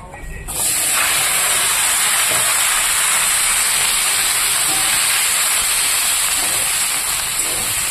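Vegetables hit hot oil left from frying fish and set off a sudden, loud sizzle that holds steady and close after a brief quiet start.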